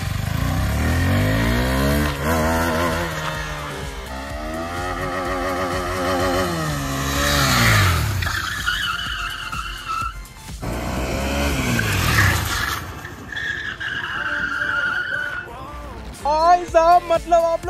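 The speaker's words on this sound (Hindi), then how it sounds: "अभी हम लोग बाइक का बहुत तबाही वाला ड्रिफ्ट करने वाले हैं" A motorcycle drifting in supermoto mode, its engine revving up and down in repeated rising and falling sweeps with tire scrubbing, loud and close, with people talking over it.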